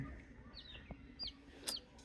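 Native chickens cluck softly at a distance, with a few scattered high chirps from sick broiler chicks over a low, quiet background.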